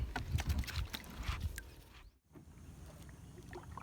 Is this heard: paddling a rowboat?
yes